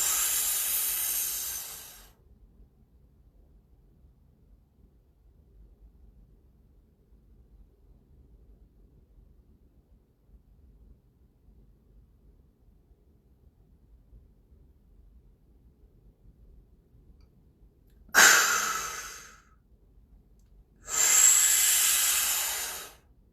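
A deep, breathy inhale through the nose during a Kundalini yoga practice, heard as two strong, airy breaths near the end after a long quiet stretch, with another breath at the very start.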